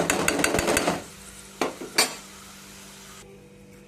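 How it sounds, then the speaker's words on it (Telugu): Chili powder stirred into a sizzling curry in a pan: a busy burst of scraping and hissing at first, then a couple of sharp utensil knocks over a fading low sizzle, close by and without speech. "కారం వేస్తున్నానండి నెక్స్ట్ ఇలా మొత్తం కలుపుకోవాలండి"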